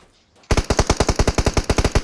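Rapid automatic gunfire in PUBG Mobile bursts in suddenly after a quiet moment, a loud, close string of about fifteen evenly spaced shots.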